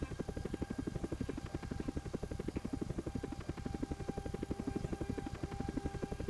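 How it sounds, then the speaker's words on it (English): Helicopter sound effect from a Unity-built penguin video game, a steady rapid rotor chop with a low thudding pulse, continuous and loud throughout with no talk. "I love the helicopter sound"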